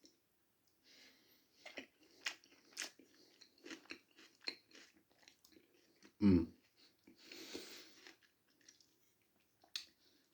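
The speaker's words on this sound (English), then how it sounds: "I think what I'm going to dip into first is the cheesy beans." Cheesy beans with egg are eaten up close in an ASMR mukbang: soft wet chewing and mouth clicks in scattered bursts against near silence, with one louder bump and some breathing.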